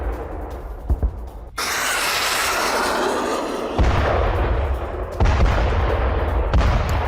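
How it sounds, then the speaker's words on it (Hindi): Loud blasts and rumbling from a Kinzhal hypersonic missile strike in western Ukraine, with a sharp onset followed by sustained roaring noise and further heavy booms later on, no voices present. "ये देखिए आप, कई धमाके होते हुए नजर आएंगे।"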